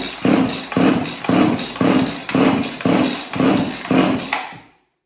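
Repeated pulls on the starter cord of a chainsaw fitted with a new piston, during a compression test: seven rhythmic rasping, whirring pulls, each about half a second apart, loud and close, ending abruptly.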